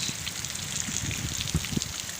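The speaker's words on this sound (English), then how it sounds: "Good rains last half an hour." Steady rain falls in the Thar Desert, a soft, even hiss of drops on the ground with a few closer patters, continuous and moderately quiet, with no voices.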